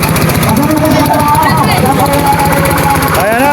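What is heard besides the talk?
racing boat engine starting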